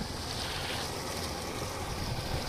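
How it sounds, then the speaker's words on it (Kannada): Water flowing steadily as it fills a river area at a scenic spot in Uttara Kannada, a continuous broadband rush with low rumble and wind buffeting the microphone throughout, no voices. "ಮುಂದ್ಗಡೆಯಿಂದ ಬರ್ತಾ ಇದೆ ನೀರು, ಫುಲ್ಲಾಗಿದೆ ಈ ಕಡೆ ಎಲ್ಲ ನೋಡಿ"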